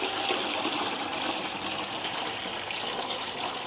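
Water poured slowly from an old bucket into a guppy fish tank, a steady, even splashing and trickling flow that carries on without pause throughout.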